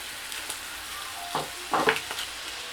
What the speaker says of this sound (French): Je fais revenir un peu. Et après, j'introduis tout doucement les épinards.